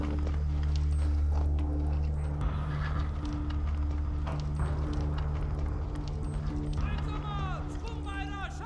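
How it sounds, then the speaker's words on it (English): Horses' hooves clip-clop outdoors in a historical setting, a rough rhythm of steps heard under loud speech and a busy background, with a few brief whinny-like calls near the end. "The horses are ready, outside."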